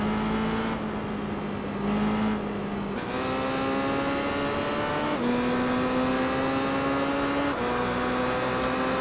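Kawasaki Zephyr motorcycle engine racing in the game Tourist Trophy, a steady loud drone that climbs in pitch through each gear and then drops at the shift, several upshifts over about nine seconds with no talk.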